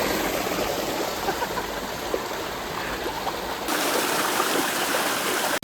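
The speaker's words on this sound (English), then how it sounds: "We're at the top of the waterfall." A steady, loud rush of falling water fills the scene without a break, close and constant.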